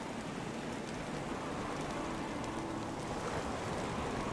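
Steady rushing wash of water as waves break over a ship's bow in Stormworks, a continuous dense hiss with no distinct individual splashes, loud and unbroken.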